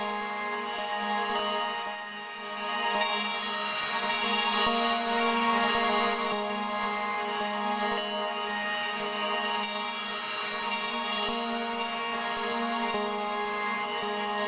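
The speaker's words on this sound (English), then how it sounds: "It sounds like this is one big reverb plugin." Huge reverb atmosphere built from stacked plugins in Patcher: a dense, steady wash of sustained tones and shimmering harmonics that swells slightly early on and then holds evenly, soft and enveloping, with no voices.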